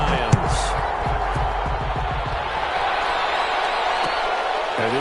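A constant roar of a stadium crowd in an NFL video game before Philadelphia Eagles versus Detroit Lions, a broad steady wash of cheering noise with a few thumps and a commentator's voice over it.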